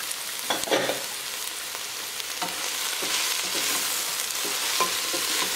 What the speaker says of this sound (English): Give that a good stir, mix up everything.